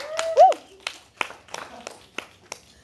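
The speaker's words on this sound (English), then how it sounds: "Golf clap." A few sparse, polite claps from an audience at a live knighting ceremony event, spaced irregularly as a soft golf clap, with a brief vocal sound near the start.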